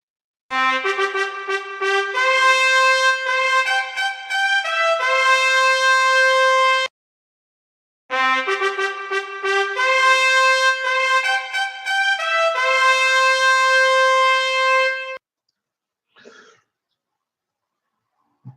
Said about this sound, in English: That is the sound of the trumpet that you've just heard.